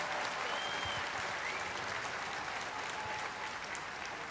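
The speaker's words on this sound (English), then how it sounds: "Another round of applause, please" An audience claps steadily and fairly loudly at an evening unity event honoring a teenage girl. The applause holds at an even level the whole time, without any talking.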